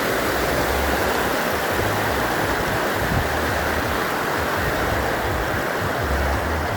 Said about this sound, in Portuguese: Aí tem a queda d'água